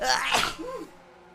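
One close, sharp sneeze with a breathy burst, trailing into a short voiced sound and quiet room tone.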